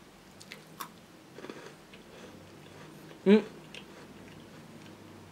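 Crunchy green tea biscuits, shortbread-like and crisper than a Kit Kat, bitten and chewed close up: a few soft crunches, then one loud sharp bite near the middle, over a quiet room.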